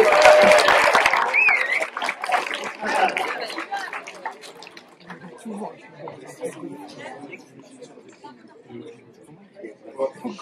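Students in a school audience at a slam tournament clap in a loud burst that quickly dies into scattered claps and murmuring chatter, with voices audible throughout.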